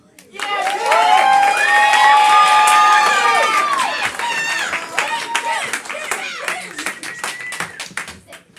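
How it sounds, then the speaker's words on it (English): A school showcase audience breaks into loud applause and cheering, with whoops and claps swelling in the first half, then tapering into scattered clapping and crowd noise. "Can we also have a round of applause for Tim?"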